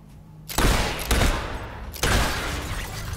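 Gunfire in Fable III, three loud bursts of rapid shots about half a second apart, each trailing off into echo.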